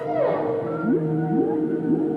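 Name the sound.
whale song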